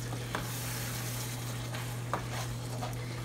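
Beef biryani masala being stirred in a pan, a steady sizzling hiss with a few soft scraping strokes of the spoon, close and continuous with no voices, against a low constant electrical hum.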